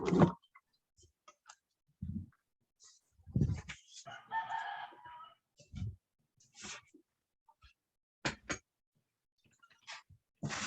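A rooster crows once in the middle, a raspy strained call heard fairly clearly between scattered bits of speech and small studio noises.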